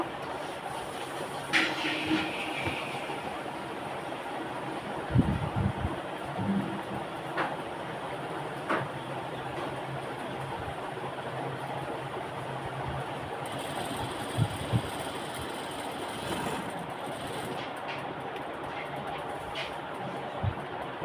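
A sewing machine stitches a printed lungi slowly and steadily, a low mechanical hum with soft rhythmic clicks and occasional thumps, heard close up with no talking.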